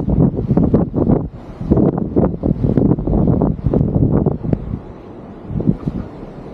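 Strong seaside wind gusts buffet the microphone, a loud, continuous rumbling roar with rustling bursts that swell and ease, while sand is swept along the shore; no voices.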